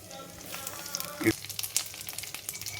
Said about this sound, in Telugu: వేయించుకోవాలి ఇప్పుడు ఆవాలు జీలకర్ర ఎండు మిరపకాయలు